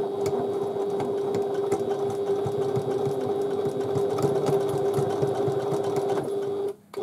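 A sewing machine runs continuously while stitching the sides of a Lola domed handbag, giving a close, steady mechanical whir with a tight rapid needle rhythm that cuts off abruptly near the end, with no voices.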